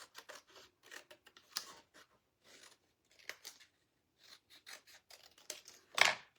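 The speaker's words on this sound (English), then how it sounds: "Alright, and let's cut it." Scissors snip through ribbon while a rolling pin is upcycled into patriotic decor: faint, scattered short crisp cuts in an irregular rhythm, ending with one louder final snip.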